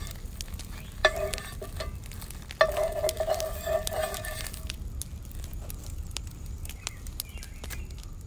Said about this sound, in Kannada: ಇನ್ನು ಬಿಸಿ ಆದ ಮೇಲೆ ದೋಸೆ ಹಾಕಿದ್ರೆ ಆಯಿತು